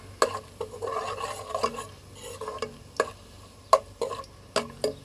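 Mutton pieces with onions, garlic and oil frying in a pot, heard as a soft steady sizzle broken by sharp scraping stirs and clinks of a spoon against the metal, close up and with no talking.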